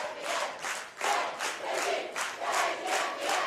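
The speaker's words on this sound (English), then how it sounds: "Now all of them on their feet, standing, clapping, cheering their team on" The home crowd at a boys' high school soccer semifinal stands and cheers, clapping in a loud, steady rhythmic chant with regular pulses about every half second, for Maeser Prep Academy Lions against American Heritage.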